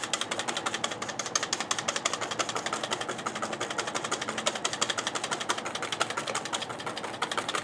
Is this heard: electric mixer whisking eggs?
yes